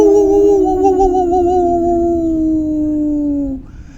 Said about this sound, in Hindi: जो गली थी उसके अंदर कुत्ते रह रहकर भौंक रहे थे।